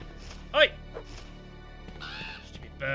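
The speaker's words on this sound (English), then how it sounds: "Stupid birds." Crows cawing in the Resident Evil 3 video game, a loud harsh caw up close followed by a couple more cries, with a low game ambience underneath.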